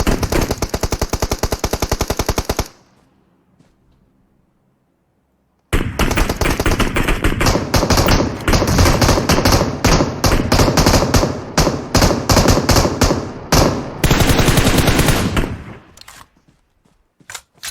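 Sustained automatic gunfire in PUBG Mobile, loud rapid shot trains lasting several seconds, broken by a silent pause before more long close bursts.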